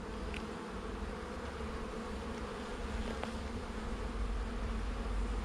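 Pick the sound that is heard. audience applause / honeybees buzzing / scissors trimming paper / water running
honeybees buzzing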